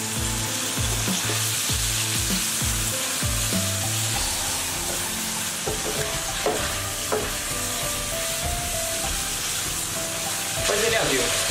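Pork slices fry in a hot wok for a home-style Chinese dish, with a loud, continuous sizzle and crackle broken by the clatter and scrape of stirring, with no voices.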